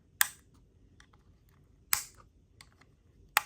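Handmade watercolor pans snapped into a palette, three sharp, crisp clicks spaced about a second and a half apart, close by and quiet, with faint small handling taps between them.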